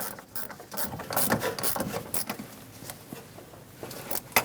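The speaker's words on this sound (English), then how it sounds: "Go on either side and snug the nuts down." A ratchet snugs down the master cylinder nuts on a Chevrolet Express 2500 van, with a run of close mechanical clicks and pawl ratcheting in uneven bursts and no voices.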